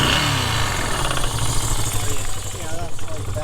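A Moto Guzzi motorcycle engine idles close by with a steady low throb and a ticking valve clatter riding on top, loud and continuous.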